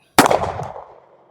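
A single sharp gunshot from an S&W Bodyguard 2.0 pistol firing a Federal Punch 85-grain .380 ACP round cracks loudly nearby, followed by a short decaying echo.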